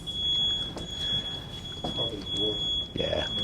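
A smoke or fire alarm sounds a steady high-pitched tone, set off by a door left open in a house under construction, running throughout beneath a room of faint voices and talk.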